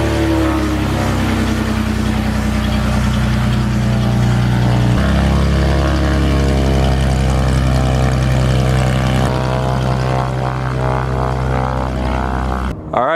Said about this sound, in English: it's so good to see this plane run again